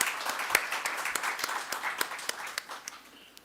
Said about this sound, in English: please clap for yourself